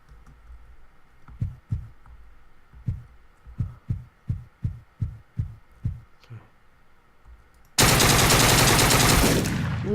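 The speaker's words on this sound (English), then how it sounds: "How does that many shots to the face with a Tommy gun not kill?" Rapid bursts of Tommy gun fire in the video game Deadbolt: about ten sharp, evenly spaced shots ring out close and loud, followed by a sudden sustained blast of broadband noise.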